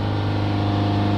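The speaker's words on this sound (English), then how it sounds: "I'm going to use this pedal depressor to hold the revs" A Mercedes E Class engine with a blocked diesel particulate filter runs steadily with its revs held near 3000 RPM, giving a loud, constant droning hum without variation.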